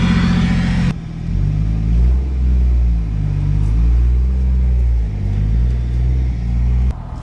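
A Toyota Supra engine running with an ECUMaster ECU idles at a low, uneven RPM, a steady close rumble that swells and dips slightly throughout, with no talking.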